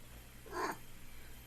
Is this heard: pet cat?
yes